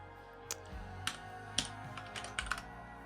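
Typing on a computer keyboard, a few scattered, hesitant key clicks and clacks heard close and fairly faint in a quiet room.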